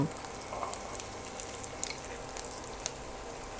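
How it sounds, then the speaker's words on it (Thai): A sea bass fillet frying gently in a pan over lowered heat gives a soft, continuous sizzle with small scattered crackles and pops. It is close but quiet, with no talking. "วางปลาไว้ในกระทะแบบนี้นะคะ ปล่อยให้เขา ค่อยๆสุกนะคะ"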